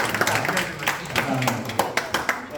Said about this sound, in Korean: 우리 친구들 격려의 박수로 하고